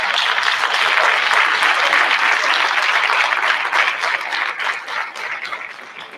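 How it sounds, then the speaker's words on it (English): A room full of people applauding students from Lincoln Avenue at a school board meeting, a steady wash of clapping that holds for several seconds before tapering off. "I want to give a huge round of applause to our students at Lincoln Avenue"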